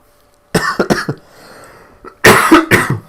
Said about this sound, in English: Oh, this cough is getting worse.